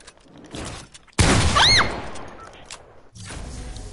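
Pump shotgun blasts in a first-person shooter game hit with a sudden loud burst, followed by a brief whistling tone and a second burst a couple of seconds later.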